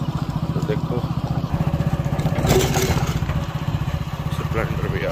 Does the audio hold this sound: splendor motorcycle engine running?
yes